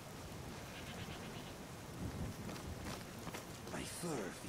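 Rain and rolling thunder in the video game Skyrim, a steady hiss of rainfall with low rumbles swelling around the middle and end, voices speaking over it.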